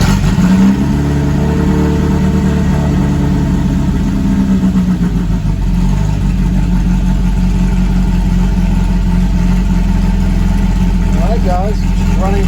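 A VW Super Beetle air-cooled engine fitted with Holley Sniper EFI starts and settles into a steady, loud, close idle, its low throbbing rumble continuing throughout.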